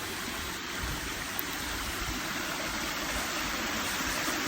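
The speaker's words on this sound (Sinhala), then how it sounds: "මේ තියෙන්නේ අර කැලෑව ඇතුලෙන් ගලාගෙන යන දිය පාර." A stream flows through forest with a steady, even rush of water that holds a constant level throughout, with no other sounds standing out.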